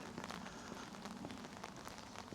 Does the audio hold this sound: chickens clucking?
no